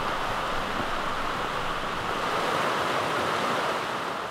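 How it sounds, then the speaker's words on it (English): Seneca Creek in West Virginia flows in a steady, dense rush during a winter snowstorm, an even wash of water noise with no breaks and no voices. "The sounds of the river and the falling snow provided a soothing backdrop"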